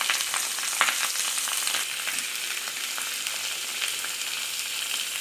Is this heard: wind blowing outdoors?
no